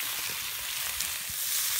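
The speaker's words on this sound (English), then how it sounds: "Brought some pork chops. Pork chops, fried potatoes. I'm going to cook it out there on the fire." Pork chops and fried potatoes cooking over a campfire, a dense continuous sizzle with soft low crackles underneath, close and steady for a brief stretch, no talk.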